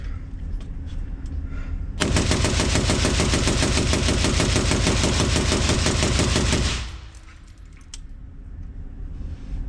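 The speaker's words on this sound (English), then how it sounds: "And now we can mag dump again with the suppressor." A suppressed POF rifle is mag-dumped in rapid fire: a dense, continuous stream of loud shots lasts about five seconds, then stops abruptly, leaving quieter background noise.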